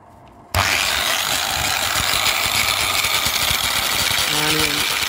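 A Hitachi hand grinder switches on abruptly after a brief quiet moment and keeps running with a loud, harsh whine and rattling gear or bearing noise, close and continuous.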